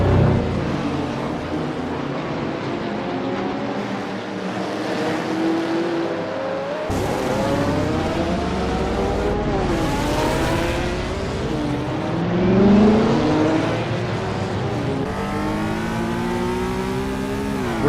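1960s race cars in Assetto Corsa roar past in a steady, loud pack, engines revving and shifting through rising and falling pitch sweeps, with one car pulling close and fading.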